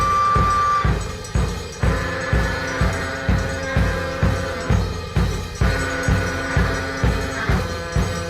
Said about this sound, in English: He once made an entire studio album about the Iranian religious finder Zarathustra